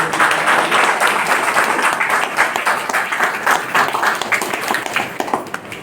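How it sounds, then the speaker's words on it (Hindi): Audience at a distributor training session bursts into loud, sustained applause, dense rapid clapping from a roomful of people that holds steady for several seconds, close and energetic. "जोरदार ताली आपको"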